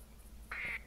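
A single short duck quack sounds from a distance over quiet outdoor background noise.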